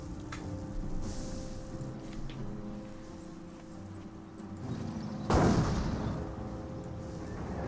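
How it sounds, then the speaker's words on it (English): An anti-tank gun fires at a Panther tank in Company of Heroes, one heavy booming shot breaking out partway through over a constant rumbling battlefield backdrop, with small clicks and thuds scattered before it. "AT gun shots onto the Panther"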